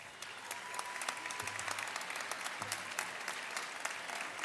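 Steady audience applause fills the hall at the opening ceremony of a university sports games, with dense continuous clapping at moderate, distant level throughout.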